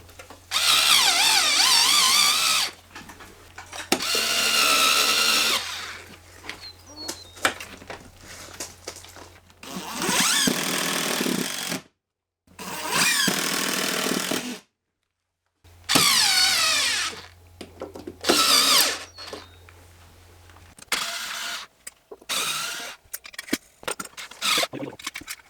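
A power drill drives screws to mount a battery bracket on a wall, running in several loud whining bursts of a few seconds each, separated by short pauses and silences, close up.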